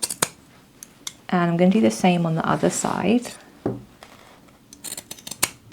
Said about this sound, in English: What I'm going to do is get my scissors, and I'm just going to clip this little corner here